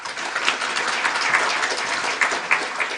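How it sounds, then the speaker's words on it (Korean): A church congregation at a Sunday service claps warmly as the preacher comes forward, a short burst of dense, even applause with a few sharper claps standing out. "앞에 나오실 때 우리 함께 힘찬 환영의 박수 부탁드립니다"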